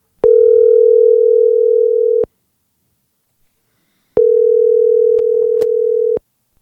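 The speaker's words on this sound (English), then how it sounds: "Let's call him" Two steady telephone tones placed while calling someone, each lasting about two seconds and separated by a pause of silence, loud and clean with no talking over them.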